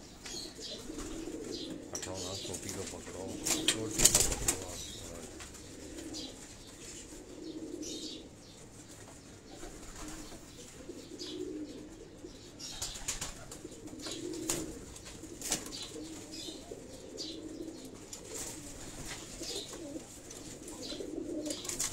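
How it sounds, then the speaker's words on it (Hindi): Pigeons coo softly in a low, steady murmur on a Karachi rooftop, with a brief burst of wing flapping early on and faint chirps over a continuous background. "ये वो कबूतर मैं आपको दिखा रहा हूँ"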